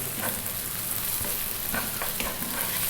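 Onion and garlic fry in sunflower oil, a steady dense sizzle with a few scraping stirs of a utensil breaking through now and then, close and fairly loud with no voices.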